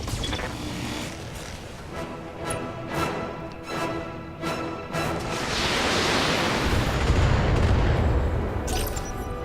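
Mech weapons and LRM missile salvos firing in the Battletech video game, a run of sharp blasts and launches early on, then a swelling roar of missile fire and explosions near the end, loud and steady with no voices.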